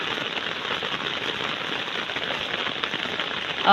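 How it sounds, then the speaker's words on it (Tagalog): Steady rain falls on the ground and leaves outdoors, a dense, even hiss of drops with no pauses, fairly loud and close. "Ingkalit ra man og ulan."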